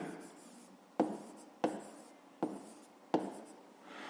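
Pen writing a handwritten math solution on paper, with steady faint scratching broken by four sharp taps at regular intervals, close and quiet with no talking.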